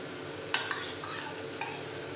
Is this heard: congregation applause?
no